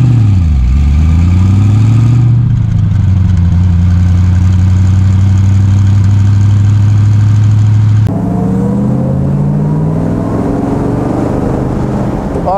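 A 1965 Iso Grifo 365 GL prototype engine drones steadily while driving, rising and falling in pitch as it accelerates and shifts, loud and close with no talk.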